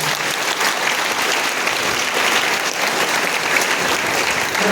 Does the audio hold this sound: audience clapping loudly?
yes